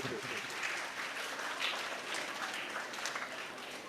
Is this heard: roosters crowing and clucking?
no